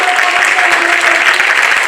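An audience in an auditorium greets the start of a podcast session with loud, steady applause, a dense roar of clapping across the brief moment.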